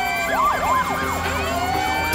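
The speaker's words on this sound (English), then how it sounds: "Do you hear all those sirens?" Loud wailing sirens rise and fall in rapid overlapping sweeps, several emergency sirens blaring close by with no talking.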